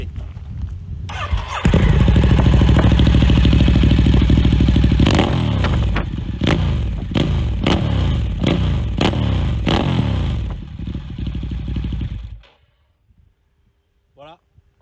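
A Ducati Diavel Carbon motorcycle with a Termignoni exhaust cranks and fires up, then settles into a loud idle broken by a string of sharp throttle blips before the engine cuts off.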